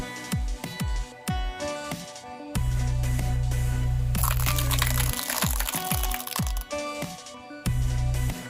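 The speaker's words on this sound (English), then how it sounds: "I put 2 bundles of cigarettes under the wheels of the car." Bundles of cigarettes are crushed under the wheels of a car, giving a series of crunching, crackling and crinkling bursts, some sharp and separate and some merging into longer grinding stretches over a low rumble.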